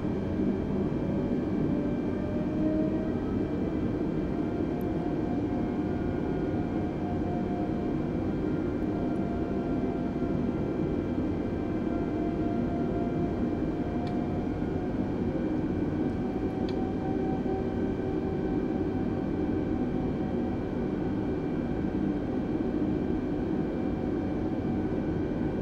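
Steady, even engine hum of an Airbus A320 taxiing in Microsoft Flight Simulator, a continuous low drone with faint tonal whine, unchanging and fairly quiet throughout with no talking.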